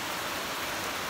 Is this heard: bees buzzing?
no